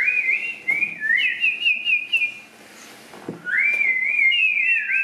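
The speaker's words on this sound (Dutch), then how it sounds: "Jullie zijn samen verschrikkelijk met de fluiten" Shrill, warbling whistles from people, two long wavering phrases separated by a short pause with a soft thump, no talking.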